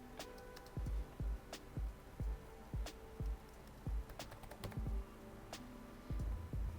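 Keys on a Coke-damaged gaming laptop keyboard are tapped one at a time in an uneven rhythm, close and fairly soft, each press a sharp click over quiet room noise.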